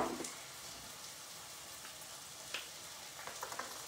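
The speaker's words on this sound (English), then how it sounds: "just going to stir that around a little bit to get those fennel seeds to start to bloom their flavor" Sausage with fennel seeds and black pepper is stirred in a frying pan, giving a faint, steady sizzling hiss with a few light scrapes and taps from the spoon.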